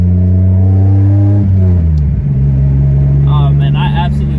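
A Mitsubishi Eclipse fitted with new carbon ceramic brake pads accelerates hard close to the microphone, its engine note climbing, dropping at a gear change, then climbing again loudly.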